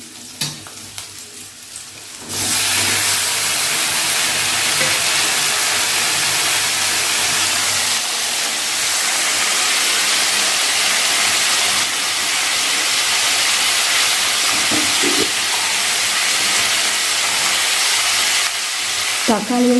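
Onion and tomato fry in a pan for Tamil mochai kulambu, giving a loud, steady sizzle that starts after a brief quieter moment and runs unbroken, with occasional scraping stirs.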